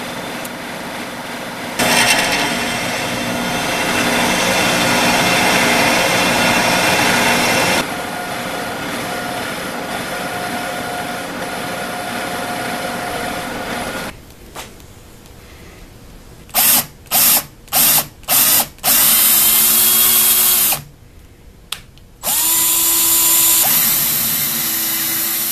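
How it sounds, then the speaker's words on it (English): A drill press bores holes in a part for a CNC mini mill Z axis rebuild, a loud steady motor whine and cutting noise running for several seconds, then quieter handling followed by a series of short bursts and pauses. "I went ahead and drilled and tapped new holes"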